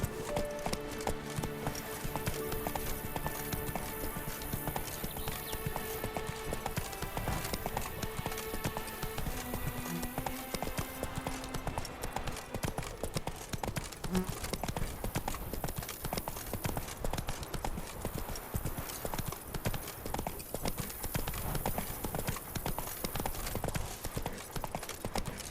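Roach, a horse in The Witcher 3, gallops with quick, steady hoof clip-clops carrying on for the whole stretch over background game music, with no talk.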